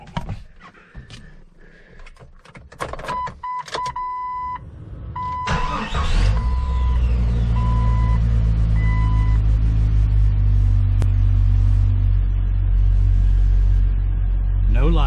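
A 1998 Jeep Cherokee XJ with a newly replaced crankshaft position sensor: clicks and a steady door chime, then a brief crank before the engine catches and settles into a loud, even, low idle.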